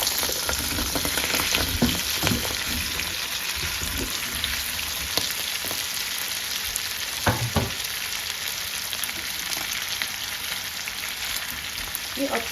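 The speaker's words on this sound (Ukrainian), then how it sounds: "Поки наша картопля смажиться" Steady, crackling sizzle of potatoes frying in butter in a hot pan, with occasional scraping stirs and clinks, close and continuous.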